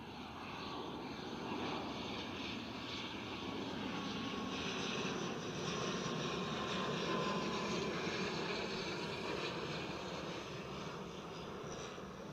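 An aircraft lands at Edinburgh airport, a steady distant engine roar with a broad rushing drone that holds evenly for the whole stretch, faint and with no talk over it.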